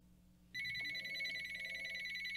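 A telephone rings in a radio call-in studio, one steady electronic ringing tone that starts abruptly and continues without a break, close and clear over a faint background hum.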